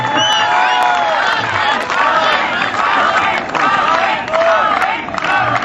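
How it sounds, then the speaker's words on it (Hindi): The audience at a Hindi poetry gathering in Delhi breaks into loud applause with cheering and whoops, a continuous, close crowd roar. "तो जोरदार तालियों के साथ स्वागत कीजिए"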